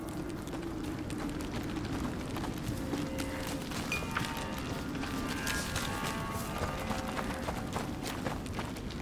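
Horse hooves in the medieval stealth game A Plague Tale: Innocence, a steady stream of muffled running or trotting footfalls under dense, continuous ambient noise with faint tonal game sounds over it.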